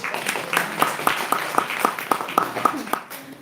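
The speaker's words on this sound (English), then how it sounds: "One more big applause for everyone." An audience at an iftar gathering claps in a steady rhythm of about ten sharp, evenly spaced claps, with looser scattered clapping and murmured voices around them before it tapers off.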